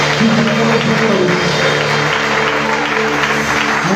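A congregation at an evangelical church service applauds in a steady, loud wash of clapping that fills the room, blended with sustained worship music throughout.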